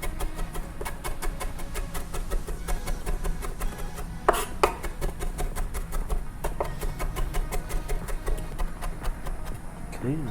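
Rapid, steady knife chops on a cutting board while dicing ingredients for chimichurri, a dense run of close, sharp taps with one louder knock near the middle and a faint background hum throughout.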